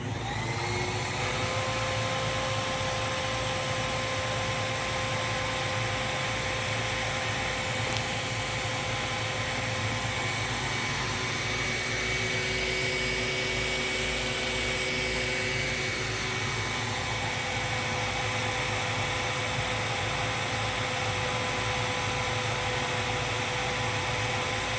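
Lindhaus Healthcare Pro vacuum cleaner running steadily with airflow measured at the end of its hose, a loud, constant roaring whine with a slow shift in tone partway through, heard close up without talk.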